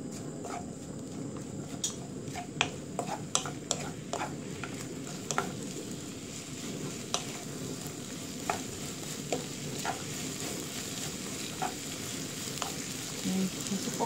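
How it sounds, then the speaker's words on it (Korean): Onions stir-fry in a pan with a steady, close sizzle, punctuated by the clicks and scrapes of a utensil stirring at irregular intervals. "양파를 한 3분의 2 정도 익을 동안 볶아줍니다."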